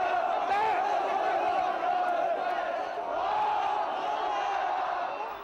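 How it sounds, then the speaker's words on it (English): Angry crowd in Iraq suddenly going berserk, a dense roar of many shouting voices rising and falling, sustained yelling and battle-cry whoops at moderate distance for the whole stretch. "this perfectly friendly crowd, slightly reserved, all of a sudden just goes berserk in the course of 30 seconds"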